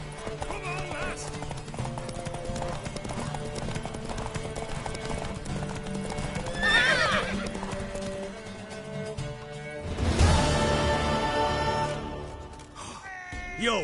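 Rhythmic hoofbeats of a galloping mare in a video game run steadily throughout, with a whinny midway and a louder surge of hooves and movement near the end.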